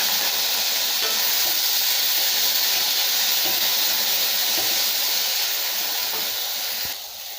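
Tomato, onion, coriander and curry leaves sautéing in a pan with turmeric and asafoetida for a Tamil buttermilk curry, a steady close sizzling hiss that runs throughout and eases slightly near the end.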